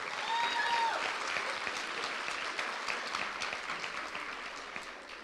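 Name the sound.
applause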